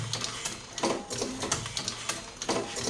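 An automatic coil winding machine runs steadily nearby, giving a continuous mechanical whir with a fast, regular clicking rhythm that pulses throughout at an even level with no talk.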